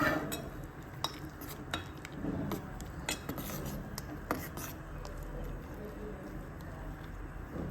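Barley porridge is stirred in a pot, with a spoon scraping and tapping against the sides in irregular strokes, close and fairly quiet, against a low background hum.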